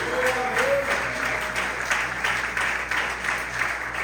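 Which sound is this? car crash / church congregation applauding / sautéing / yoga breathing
church congregation applauding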